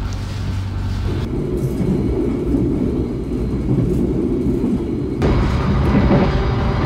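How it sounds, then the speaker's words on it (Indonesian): An executive-class Singasari train pulls out of Kertosono station in the rain, a steady low rumble and rolling clatter heard from inside the carriage that swells a little louder near the end. "Kereta sedang bergerak meninggalkan stasiun Kertosono."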